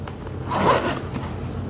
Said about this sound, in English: So now that one's zipped on that side.